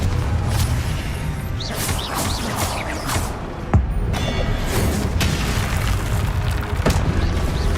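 Repeated fiery Confringo spell blasts in Hogwarts Legacy, dense booming bursts and crackling impacts layered in constant busy combat noise, one sharper crack standing out midway.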